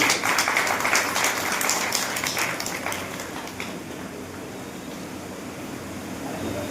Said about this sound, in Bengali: সকলে করতালি দেবেন